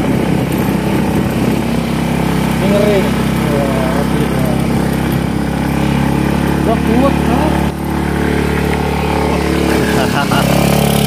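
A motorcycle engine labours uphill on a steep rural climb under a heavy load of about a quintal, droning loud and continuous throughout while someone talks over it.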